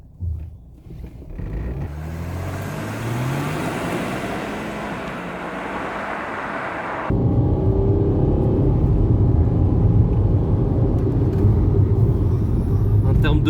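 A Mercedes AMG car accelerating hard, its engine rumble climbing steadily in pitch, then a sudden shift into a heavier, louder, sustained roar heard from inside the cabin.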